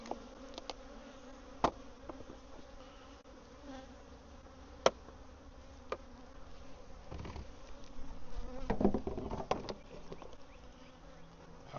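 Honeybees buzz in an open hive during an inspection, a dense continuous drone with sharp clicks and knocks from handling frames and a louder swell near the end.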